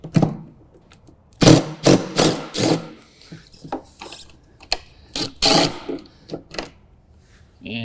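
A 10mm bolt being removed with a ratchet and extension while installing a string trimmer mounting kit on a John Deere Z735M zero-turn mower; close, loud bursts of metallic ratcheting and scraping come in uneven clusters with pauses between.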